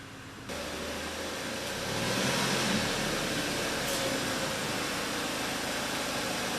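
A vehicle engine idles with a steady broadband rumble while being backed into a shop, loud and continuous with no talk.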